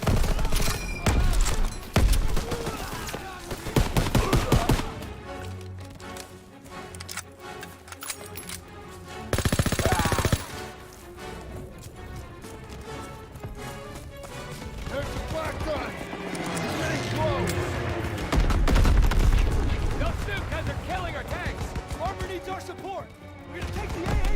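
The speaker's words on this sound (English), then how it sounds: "Grenade out! Tossing out a grenade!" Gunfire and explosive blasts from a first-person shooter match with an SKS rifle, a grenade thrown amid repeated shots and bursts, loud and close, mixed with clattering game sounds and ongoing talk.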